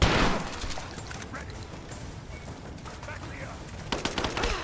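Gunfire in the Rise of the Tomb Raider video game: a sharp burst of shots at the start, then a busy game soundscape with a fresh cluster of loud cracks near the end.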